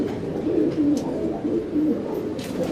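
Several pigeons coo in soft, repeated rolling phrases close by, a steady murmur of overlapping calls from a large flock kept in a loft, with a few faint chirps above.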